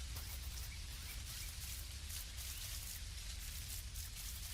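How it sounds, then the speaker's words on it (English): Steady rain begins in the video game Dinkum, a soft continuous hiss of rainfall with no talk, even and quiet throughout. "The rain is just starting."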